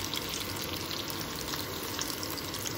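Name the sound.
tofu frying in pan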